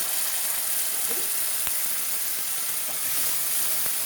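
Mashed boiled tomatoes go into frying onions, giving a steady broad sizzling hiss with a few faint clicks and spoon taps, close and even throughout.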